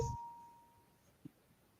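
A single bell rings once at the very start, leaving a thin ringing tone that fades over about a second, followed by a faint soft knock.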